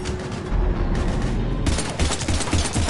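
Heavy, continuous gunfire from the Mass Effect 3 Legendary Edition battle on Earth against Husks, loud and close, with rapid shots layered over a dense rumble for the whole stretch.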